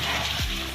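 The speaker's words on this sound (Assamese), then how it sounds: "মাংসখিনি অলপমান ভাজি লৈ ভাজি থাকিম আৰু পানীখিনি নুশুকোৱালৈকে" Mutton pieces sizzling in a hot pan over onions that have just turned red, a brief, steady frying hiss.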